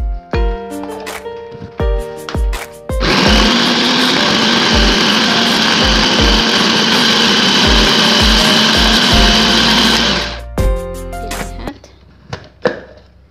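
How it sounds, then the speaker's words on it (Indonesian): A blender grinding frozen chunks of beef, a loud, steady high-pitched motor whine for about seven seconds, with clunks and knocks before and after as it starts and stops. "ini langsung ini masukin bumbu-bumbunya langsung di blender lagi"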